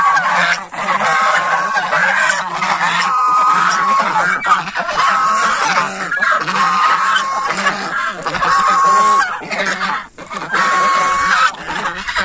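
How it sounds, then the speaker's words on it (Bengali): White domestic geese honk loudly and repeatedly, a noisy flock calling over one another close by for the whole stretch. "এগুলো রাজহাঁস, এগুলো বড় বড় হাঁস।"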